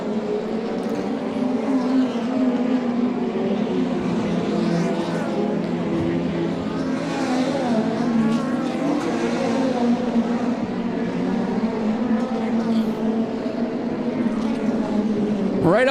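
Sprint cars qualifying at Angell Park Speedway, a loud continuous engine roar that rises and falls as the cars lap the dirt oval, with no break across the whole stretch.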